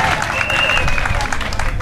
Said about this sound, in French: Il faut l'applaudir très fort